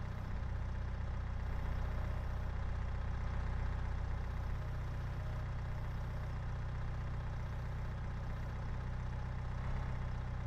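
A telehandler's engine idles steadily in a farming video game, a low, even rumble that holds constant at moderate volume with no talk over it.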